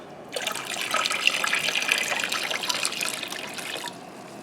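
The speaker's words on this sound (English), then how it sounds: "I'm going to put some more water in here so that it's completely covered and bring it up to a boil" Water from a tap pours steadily into a canning pot of peaches. The close, continuous splashing trickle starts abruptly and stops just before the end, with no talk.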